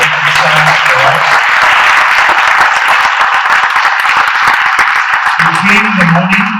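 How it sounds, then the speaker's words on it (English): Audience at a business conference event giving a loud, sustained round of applause, with a voice talking over the clapping at the start and end. "Can you stand and give one round of applause for Ganesh for sharing the wonderful insights for us."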